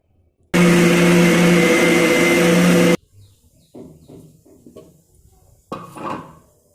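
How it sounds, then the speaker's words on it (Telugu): A mixer grinder grinds dosa batter from soaked ingredients and water: a loud, steady whirring roar runs for about two and a half seconds, then cuts off, followed by a few quiet bursts of talking. "మిక్సీ పట్టుకోవాలి."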